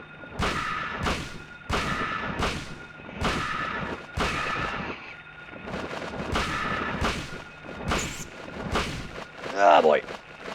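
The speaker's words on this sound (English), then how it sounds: "We're going to shotgun this bastard." In the 1999 game Silent Hill, a shotgun fires at a monster in a run of about nine loud, booming blasts spaced roughly a second apart, followed by a brief creature-like cry.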